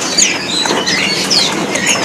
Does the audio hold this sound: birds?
yes